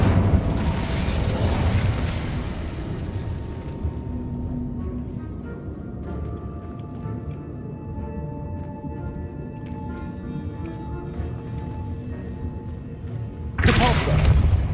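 Incendio fire spell in the Hogwarts Legacy video game, a loud fiery burst that fades into a low roaring rumble with lingering tonal hum, then another sharp burst near the end.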